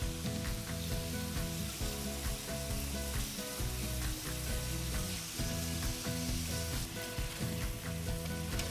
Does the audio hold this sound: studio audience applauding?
no